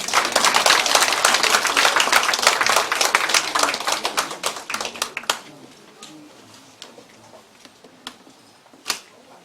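At an election campaign committee's closing ceremony, an audience welcomes a speaker with a dense burst of clapping that thins out and stops about halfway through, leaving a quiet room with a few stray claps and taps.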